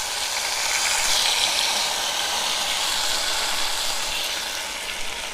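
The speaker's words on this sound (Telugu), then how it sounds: "టమాటా వేసుకుందాం." Tomatoes for a tomato roti pachadi sizzle in a pan with an even, continuous hiss and crackle, moderately loud and unbroken, with no talking.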